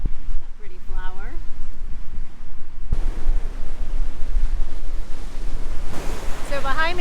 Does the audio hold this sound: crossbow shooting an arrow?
no